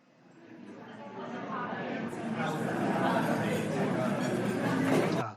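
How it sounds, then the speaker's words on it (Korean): A steady murmur of many indistinct voices fills the space, a busy café hubbub with faint clatter, swelling slightly and then cutting off. "커피숍 한번 들어볼까요?"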